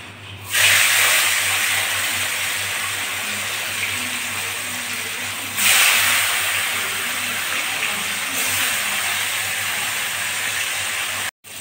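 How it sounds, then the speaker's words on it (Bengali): Koi fish fry in hot oil with a loud, continuous hiss that swells sharply as pieces go in or are turned, then settles into a steady sizzle. "মাছগুলো এখন ভেজে নেব"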